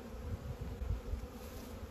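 A winter check on a bee colony brings a soft, low hum of honey bees at the hive, faint and continuous with gentle swells, heard alone without voices.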